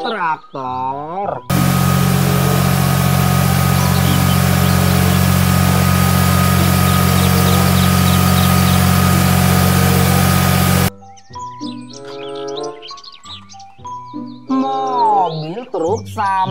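A loud, steady toy tractor engine drone runs for about nine seconds, low and rumbling, with lively voices before and after.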